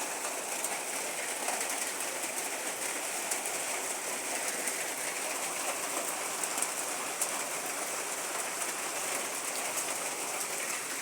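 Steady rain falls, a dense, even hiss that fills the whole stretch without letup, with no voices over it.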